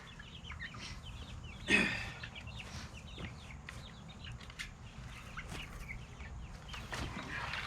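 Young meat chickens in a makeshift brooder cluck and chirp softly and repeatedly, with a brief burst of wing flapping near the start, over a steady low background hum.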